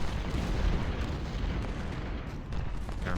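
Cannon artillery fires in the Ultimate General: Civil War video game during the Battle of Fredericksburg, a rumble of muffled, overlapping booms that sounds fairly faint and distant, with no talking.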